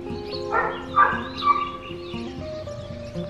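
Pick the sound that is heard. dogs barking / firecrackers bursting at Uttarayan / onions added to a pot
dogs barking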